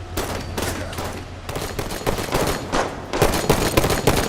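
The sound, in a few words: enemy gunfire from a ledge in the video game Halo 5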